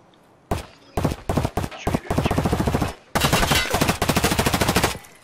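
Bursts of automatic gunfire from the Escape from Tarkov shooter game rattle in rapid strings of shots, several separate volleys with short gaps, loud and close.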